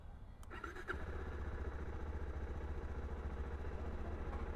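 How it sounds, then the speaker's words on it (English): A Suzuki DR-Z4S motorcycle engine started with the push starter button, a brief starter whir that catches into a steady, throbbing idle, close and continuous. "No mashing the starter button and holding it until it starts."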